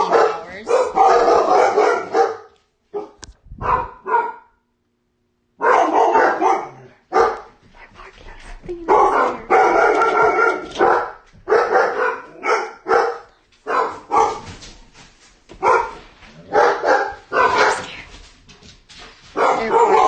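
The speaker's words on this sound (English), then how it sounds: "They're barking out the window at somebody." Several dogs bark insistently at someone outside a window, loud and close, in repeated bursts of barks and yips with short pauses, some whimpering, and a voice occasionally mixed in.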